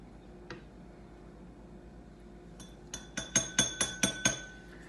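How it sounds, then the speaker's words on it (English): Substance being stirred in a glass during a lab practice, a quiet lone tap followed by a quick run of six or seven bright clinks of a stirrer against the glass. "And then we have to stir it for at least 1 minute."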